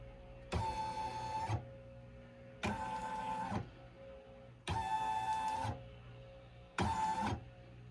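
An embroidery machine traces its design outline in four separate mechanical runs, each a whirring hum with a steady tone, separated by brief quiet pauses, close and moderately loud.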